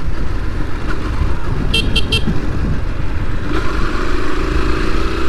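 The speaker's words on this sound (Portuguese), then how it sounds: "Dá uma buzinada ali pro Zanca." A motorcycle horn gives three quick, loud toots while riding through the cemetery grounds in Joaçaba, over steady engine and wind rumble.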